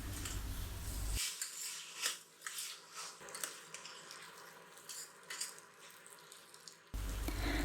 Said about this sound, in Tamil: இப்போ தண்ணியை சேர்த்துட்டு நல்லா கலந்து விட்டுலாம்.